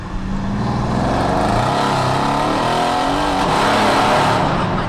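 Loud, sustained exhaust roar of a tuned 750 hp Mercedes E63 AMG accelerating hard, the engine note rising and holding close by for several seconds with no talk.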